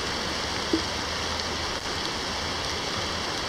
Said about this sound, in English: The water is quickly moving up.